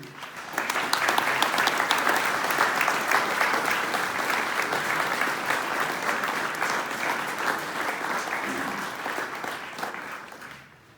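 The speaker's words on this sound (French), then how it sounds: "On peut toutes les applaudir, ces DP." A church crowd at a pilgrimage farewell gathering applauds deacons and parish workers, with sustained, dense clapping that holds steady for about ten seconds before fading out at the end.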